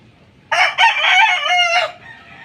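A rooster crows once, loud and close, a single drawn-out call lasting over a second, followed by quiet farmyard ambience.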